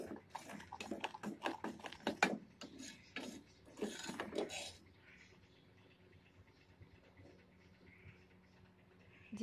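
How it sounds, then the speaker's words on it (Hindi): A spoon stirred through caster sugar syrup in a pan, giving several seconds of rough, rasping scrapes in uneven strokes, then a quiet stretch. "थोड़ी थोड़ी देर के बाद आपने चम्मच इसके अंदर हिलाते जाना है।"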